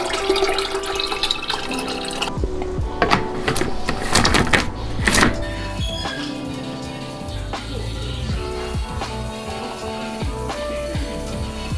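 Water runs from a tap into a water bottle, a steady close splashing rush with some clunks and drips, the pitch of the stream shifting as the bottle fills.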